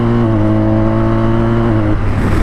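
A BMW R1250 RT motorcycle on the highway runs loud with a steady rising engine tone, then briefly dips as it upshifts, heavy wind rush throughout.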